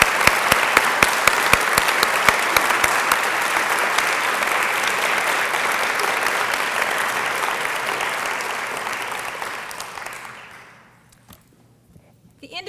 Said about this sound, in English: join me one more time for a round of applause for all of our honorees tonight